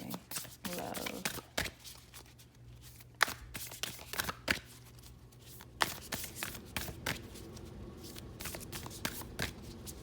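Tarot cards are riffled and shuffled in repeated bursts of crisp, close flicking, with a card drawn out, while a voice talks quietly in the background.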